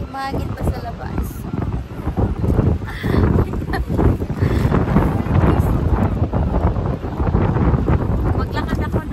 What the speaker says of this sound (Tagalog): Oh, grabe, mahangin pa sa labas.